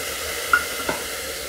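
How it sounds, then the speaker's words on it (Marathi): Green peas tipped into a hot pan of pav bhaji vegetables, giving a soft clatter and brief stir over a steady background sizzle, close and alone. "आता आपण हे वाटाणा घालून घेऊया।"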